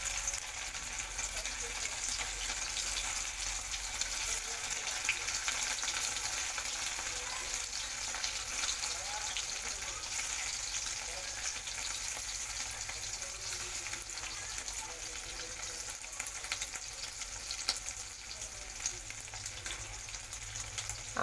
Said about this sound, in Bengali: আর কড়াইয়ে তেল গরম করে নিয়েছি, এবার এগুলোকে লাল লাল করে ভেজে নেব